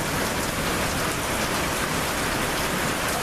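Heavy rain pours down steadily, a dense, loud, unbroken hiss of drops hitting surfaces nearby, with no voices.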